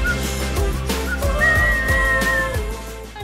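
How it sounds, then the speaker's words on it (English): A person whistles a melodic tune alone, the bright wavering notes carried over a steady musical backing at close range without any talk. "Welcome to Whistle Wednesday."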